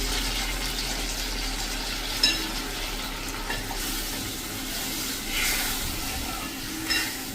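Reserved cooking water from boiled lima beans poured into a hot pan, giving a steady hissing sizzle with a few light knocks and splashes close by.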